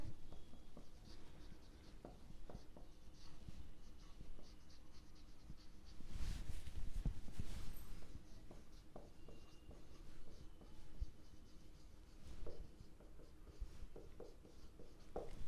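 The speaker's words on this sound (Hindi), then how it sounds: "चलिए लिखते हैं इधर" Pen writing accounting journal entries for an oversubscribed share issue onto paper, a close series of soft scratchy strokes and small taps at an uneven pace, with one louder rustling burst in the middle and no talking.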